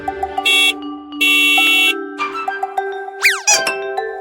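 Cartoon-style toy taxi horn honking in two long, loud, buzzy blasts, followed by shorter tones and quick sliding whistle-like effects.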